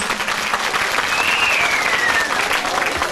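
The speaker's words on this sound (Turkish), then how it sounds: "Alkışlar Tuncer Bal için olsun" A crowd at a town event in Güzelbeyli applauds a singer, loud and sustained, with a brief whistle rising over the clapping partway through.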